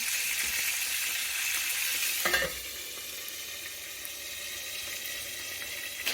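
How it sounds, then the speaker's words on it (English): Bacon and sausage frying for a breakfast pizza, a steady close sizzle throughout with a brief clatter midway, no voices. "We've got bacon cooking, and we've got some sausage cooking away over here"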